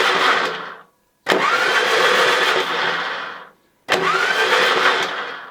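An old engine that sat unused for 30 years being spun over, a loud steady mechanical churn in three bursts of roughly one to two seconds, separated by short silent pauses.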